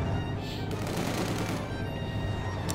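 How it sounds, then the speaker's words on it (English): Autocannon fire from a German scout car in the Company of Heroes 2 strategy game, with rounds striking a stone wall amid a dense, continuous battle din of rapid shots and explosions at steady loudness. "Scout car there firing away, auto cannon rounds hit the stone wall."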